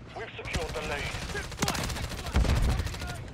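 MCW SMG bursts in Modern Warfare 3, rapid automatic fire in several loud bursts with sharp cracks, mixed with other game noise and a voice speaking.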